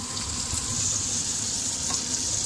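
Onions sizzle and fry steadily in a hot pan as the base for a bolognese, a close, even hiss throughout, with no talking.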